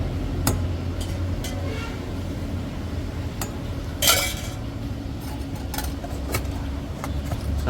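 Sev usal ingredients mixed with a utensil, a low steady background hum with sparse metallic clinks and scrapes scattered throughout and one louder clatter near the middle.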